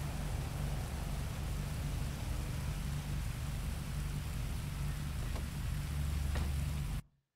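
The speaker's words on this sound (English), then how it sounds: "Because the rain is still on and it's still a little loud." Heavy rain pours down in a steady, dense hiss that stays loud throughout, then cuts off abruptly near the end.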